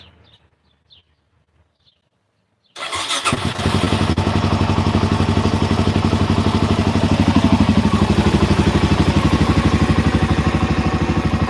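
A Suzuki DR-Z motorcycle engine starts up after near silence, then idles loudly and steadily at about 1400 to 1500 rpm with a rapid, even thrum.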